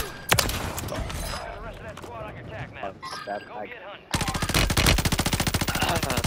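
Video game gunfire, scattered shots and bursts under excited talk from players, then a loud, rapid machine-gun stream of evenly spaced rounds for the last couple of seconds.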